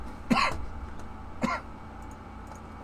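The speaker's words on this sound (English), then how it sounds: "Oh, why am I still coughing? Stop it." Two sharp coughs about a second apart, close and fairly loud, followed by quiet room tone.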